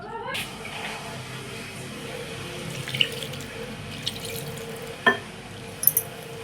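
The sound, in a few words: water being added to dough for mixing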